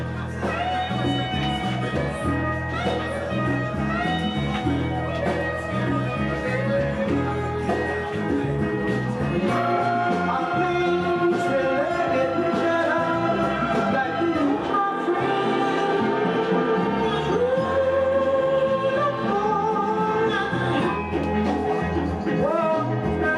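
A vinyl record plays a jazzy psychedelic soul track with steady groove, layered instruments and vocals, full and even throughout.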